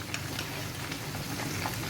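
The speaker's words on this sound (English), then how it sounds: "I'm frying the chicken" Chicken fries in a pan with a dense, steady sizzle that stays loud and even throughout, with no talking over it.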